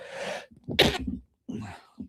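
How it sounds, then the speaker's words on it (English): A single sharp sneeze close up, preceded by a quick inhale and followed by a brief breathy sound. "that's a sneeze snuck up on me"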